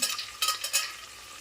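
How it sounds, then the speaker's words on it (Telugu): Ingredients frying and being stirred in a pan for coconut pulao, with a few scraping strokes over a soft, steady sizzle, heard close with no talking. "వేసేసి బాగా వేయించేస్తున్నాం"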